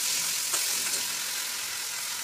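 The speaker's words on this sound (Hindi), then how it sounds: "अब इसमें आलू और टमाटर दोनों मैंने एक ही साथ में डाल दिया है।" Potatoes and tomatoes frying together in a pan, a steady even sizzle with a couple of faint stirring clicks and no talking.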